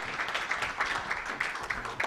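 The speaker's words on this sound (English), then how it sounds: "Asanteni, a round of applause" Applause from the audience at an electricity transmission research conference as a speaker is welcomed to give opening remarks, a moderate steady patter of clapping running throughout without a break.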